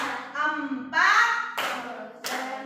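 Rhythmic group clapping cheer in a classroom, a few sharp claps in sequence alongside voices chanting counts together, close and fairly loud.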